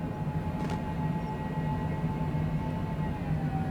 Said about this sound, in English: Taxiing to general aviation parking using taxiway Bravo Delta Cessna 3 Bravo Whiskey